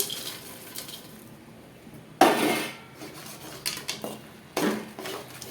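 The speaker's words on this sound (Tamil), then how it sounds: "கடலையை போட்டு நல்லா கிளறுங்க" Peanuts are stirred into hot jaggery syrup in a pan over a low flame while making peanut candy, producing sharp metallic scrapes and clanks in intermittent bursts between quieter moments.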